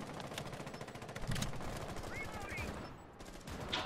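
Rapid video-game gunfire, bursts of automatic shots in a fast stuttering rhythm, with a few louder single cracks mixed in and a brief voice underneath.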